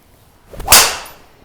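A mini driver striking a golf ball on a test swing, with a faint swoosh followed by a single sharp, loud crack that fades quickly.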